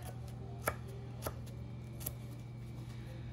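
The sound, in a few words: knife slicing two garlic cloves thinly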